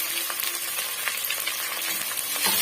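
Chopped onions fry in a pan for chicken biryani, a continuous close, bright crackling sizzle with small pops scattered throughout and no voices.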